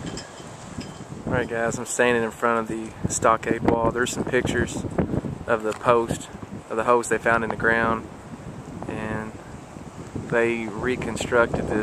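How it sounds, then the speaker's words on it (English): Someone talks steadily outdoors at an archaeological village site on a very windy day, gusty wind buffeting the microphone and adding a low, rumbling roar beneath his voice. "Apologize for the wind. It's a real windy day today."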